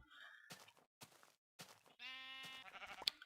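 A bleating sheep in the video game Minecraft, close and clear, sounding in short repeated calls with brief silences between.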